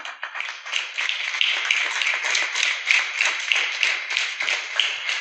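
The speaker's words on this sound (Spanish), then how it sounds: "¿Cuánto les puede dar un aplauso al Señor?" A church congregation claps in sustained applause, many hands overlapping into a dense rattling patter that stays fairly loud and even for several seconds.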